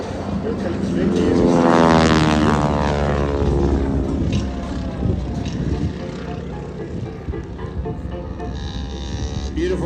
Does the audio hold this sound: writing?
no